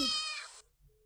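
A single short, high cartoonish cat meow in the video game Cat Simulator, clear and close, followed by near silence.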